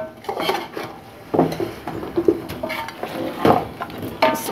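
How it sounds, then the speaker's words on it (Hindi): Ginger garlic paste is stir-fried with dry spices and bay leaf in a pot, heard as close scraping and clinking of a metal spoon against the pot in irregular strokes over a soft sizzle. "अब इसको हमने अच्छी तरह से भून लेना है।"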